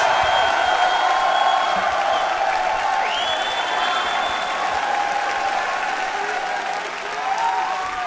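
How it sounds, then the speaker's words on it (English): Loud, sustained applause from a large audience at the MLG Columbus 2011 StarCraft II esports event, a dense, steady wash of clapping and crowd noise that runs the whole time and dips slightly near the end. "Big round of applause for Losira, second place."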